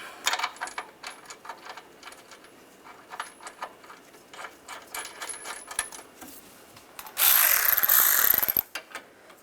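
A ratchet clicks in quick irregular bursts while bolts are tightened on the air deflector of a 1996-2002 Toyota 4Runner, ending with a louder, denser run of ratcheting close up.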